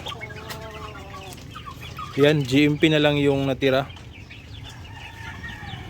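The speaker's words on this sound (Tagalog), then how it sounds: "ito yung mga manok natin" Chickens cluck and one crows loudly nearby, while someone talks over the farmyard sounds.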